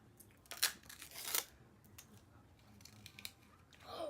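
Cardboard and plastic packaging of a surprise toy box is ripped open, a few sharp tearing and crinkling bursts up close, quiet between them.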